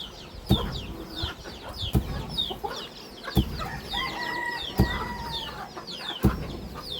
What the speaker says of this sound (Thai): ไก่ก็ลายเนาะ